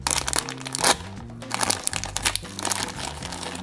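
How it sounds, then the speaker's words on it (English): A Marvel Tsum Tsum blind bag being cut open with a tiny pocket knife, loud close crinkling and crackling of the plastic packaging in bursts, with music playing underneath. "We're going to have to go ahead and cut them with the tiny knife."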